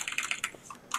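Rapid keyboard tapping from the computer game Space Quest II, a quick irregular run of about a dozen light clicks close up, with no voices.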